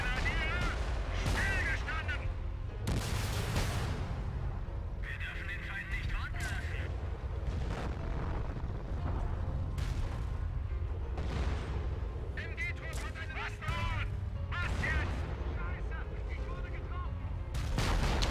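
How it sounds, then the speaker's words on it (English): Artillery fire in a Blitzkrieg mod wartime strategy game on a North African map, repeated booming impacts and gunfire bursts over a rumbling battlefield bed, steady and dense throughout, with a voice talking over it. "Yeah, artillery as always."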